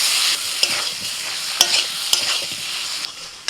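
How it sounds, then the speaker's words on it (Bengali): Potatoes stir-fried with spices in a pan sizzle steadily up close, punctuated by several sharp scrapes and clinks of a spatula against the pan, with no voices. "মশলার সাথে আলুটাকে ভালো করে কষিয়ে নিয়ে এবার জল দিয়ে দিচ্ছি"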